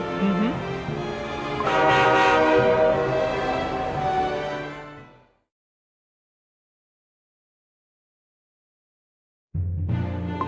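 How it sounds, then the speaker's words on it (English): A train horn sounds as a departing train pulls out in the Cookie Run Kingdom video game, a loud sustained tone that fades out, then silence before another sound cuts in. "Dear passengers, the doors are closing. Our train is departing."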